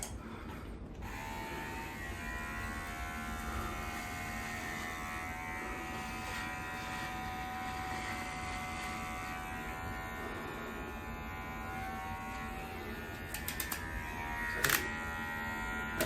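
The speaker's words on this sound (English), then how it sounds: "I was gonna just shave off some of this scraggliness." An electric shaver buzzes steadily and close, trimming scraggly hair on a man's head, a constant humming drone with a few brief rattles near the end and no talking.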